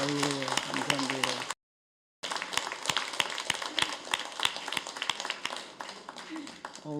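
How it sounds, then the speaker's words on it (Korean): A church congregation claps together to welcome a first-time visitor at a Sunday service, dense steady applause filling the room apart from a brief silent gap, with voices talking over it. "박수 하겠습니다"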